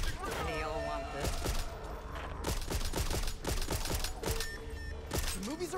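Repeated gunshots in the zombie shooter Back 4 Blood, sharp cracks scattered through the stretch over game music and effects, with a voice talking throughout.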